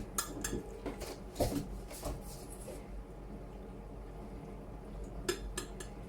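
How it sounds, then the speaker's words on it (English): A spoon scrapes and clinks against a dish while scooping filling into Brussels sprouts, a run of close, light metallic taps in two bursts with a quieter pause between. "I'm just going to spoon in my filling"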